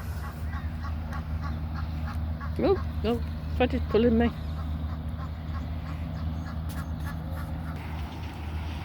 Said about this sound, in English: This is an Egyptian goose.